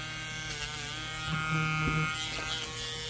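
A Micro-Mark power sander fitted with higher-grit sandpaper works on plastic, a steady close electric buzz that swells briefly into a grinding whine mid-way before settling, no voices.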